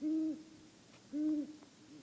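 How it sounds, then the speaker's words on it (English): A great horned owl gives deep, soft hoots in two short bursts about a second apart. Each burst is a low, steady tone with a faint overtone, heard alone against quiet surroundings. "you've got to make sure you've got the actual 4-part hoot"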